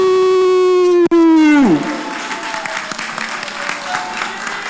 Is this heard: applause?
yes